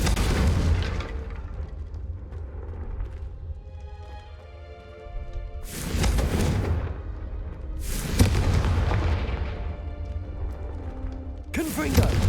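Confringo blasting spells detonate in the Hogwarts Legacy video game, several loud booming explosions in separate bursts, each with a sharp crack and rumbling tail over steady game ambience.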